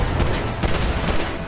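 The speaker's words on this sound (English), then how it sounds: "Shoot that gun, kid." Heavy gunfire in Grand Theft Auto 5 during a car chase: a dense, continuous barrage of loud overlapping shots with no pauses, close and harsh throughout.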